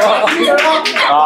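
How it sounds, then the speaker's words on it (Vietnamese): Brief clapping from a small group gathered around a teacher in a narrow alley noodle-soup spot, heard under continuous nearby talking voices. "cô giáo vỗ tay cho cô giáo đi các bạn ơi"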